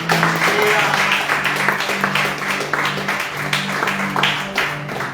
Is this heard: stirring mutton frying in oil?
no